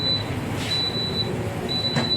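KA Majapahit New Generation train departing, a steady rumble of rolling stock with a thin high squeal coming and going over it.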